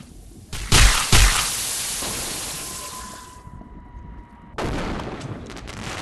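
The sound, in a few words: gunshots in the VR video game Animal Company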